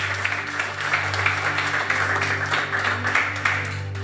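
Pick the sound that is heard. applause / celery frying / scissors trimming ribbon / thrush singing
applause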